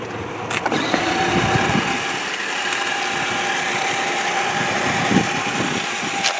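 A Kid Trax Kia Soul electric ride-on toy car drives along a street, its small motor whining steadily and close by with tire noise, a continuous hum running throughout without talk.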